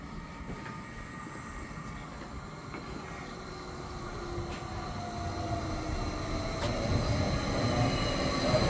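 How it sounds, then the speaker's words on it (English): A train rolls in with a low rumble that grows louder, wheels squealing in drawn-out metallic tones as it approaches. "Here comes our train."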